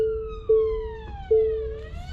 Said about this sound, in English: actually we can hear sirens